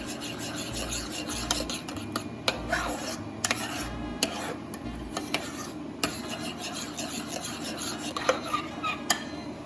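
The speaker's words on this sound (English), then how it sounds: "And then we will mix it all together again." Garlic powder and ginger seasoning are stirred together in a bowl, giving a steady scraping, rasping sound punctuated by sharp clinks of a utensil against the dish.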